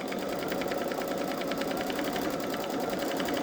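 A Babylock Solaris 3 embroidery machine stitches a tack-down line, its needle chattering in a fast, steady mechanical rhythm with a constant motor whir, close and continuous with no talk.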